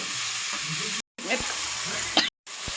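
Green chillies frying in oil for chilli chicken give off a steady, close hiss and sizzle with occasional stirring scrapes, broken by two brief silent gaps.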